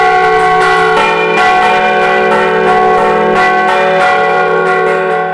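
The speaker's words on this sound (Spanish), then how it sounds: "y que son para tocarlas a mano, y por lo menos tendrán las campanas unos 500 años ya. Y tiran un sonido bonito" Centuries-old hand-rung church bells in a village bell tower clang loudly and close, repeated strikes ringing with rich sustained overtones that overlap continuously.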